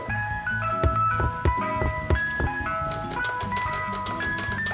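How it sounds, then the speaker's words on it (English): A tinkling ice cream truck jingle from a toy ice cream truck playset, a bright melody of repeated chiming notes with soft knocks underneath, played steadily and fairly close with no voices. "Hear that sound? It's the ice cream man."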